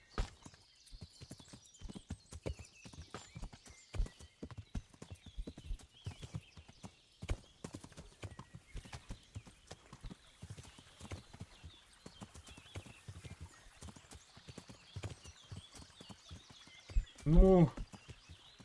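Horse hooves clip-clop steadily through most of the stretch in Kingdom Come: Deliverance, a moderately loud rhythmic trot, with a horse's whinny rising near the end and a voice speaking quietly in the background.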